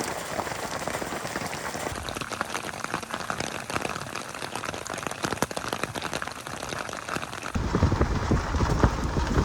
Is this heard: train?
no